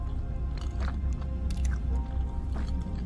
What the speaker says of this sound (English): Dude, I'm chewing for so long.